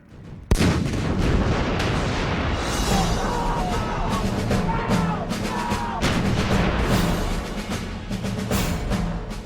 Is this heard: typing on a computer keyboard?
no